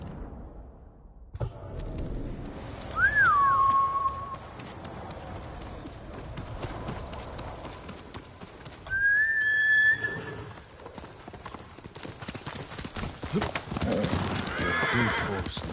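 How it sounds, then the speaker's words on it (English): A horse whinnies twice in the video game Ghost of Tsushima, clear high neighs standing out over a quieter backdrop of hoofbeats and ambient game sound. "Good horse, noble."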